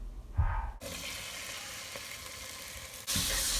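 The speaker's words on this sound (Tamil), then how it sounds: "1/4 கிலோ காலிஃப்ளவர் போட்டு நல்லா வதக்கிடலாம்." Cauliflower and vegetables sauté in a pan for a mixed vegetable kulambu, giving a steady close sizzle with a short burst at the start and a louder surge near the end.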